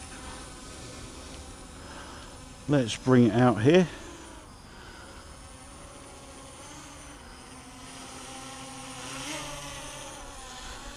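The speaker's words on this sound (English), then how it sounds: "it certainly sounds well engineered for a cheap drone" A small, inexpensive F199 WiFi quadcopter drone flies close by, its propellers giving off a steady, continuous buzzing whine from start to finish, with a voice speaking briefly near the start.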